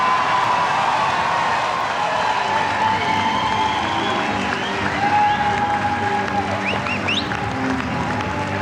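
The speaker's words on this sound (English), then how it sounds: "finally, they have something to clap about there" An audience at a 1988 Canadian federal election night rally for Liberal leader John Turner applauds steadily, a sustained wash of clapping and crowd noise with faint cheers, heard from a distance without letup.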